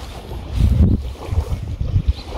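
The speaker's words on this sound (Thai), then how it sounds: "ลมพัด" Gusting wind buffets the microphone outdoors on a sunny walk, a low rumbling roar that swells and eases in uneven surges without any voices.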